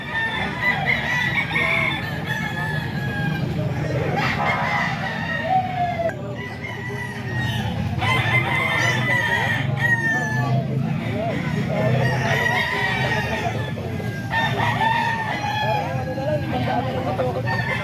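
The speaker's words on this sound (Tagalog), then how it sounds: "Manok ni Boss John mga ka-idol." Roosters crow repeatedly at close range, overlapping calls with clucking fowl between them, while someone talks over the birds throughout.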